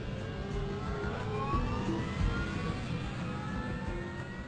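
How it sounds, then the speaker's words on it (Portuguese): A steady, droning aircraft engine hum heard from inside the cockpit of Air Florida Flight 90, rising slightly as power increases, with a constant low rumble. "E grava o som dos motores de dentro da cabine."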